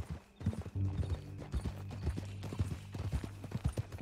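Horse hooves clip-clop on a ranch in an irregular walking rhythm, fairly near, with a low droning tone underneath and a brief snort; no speech.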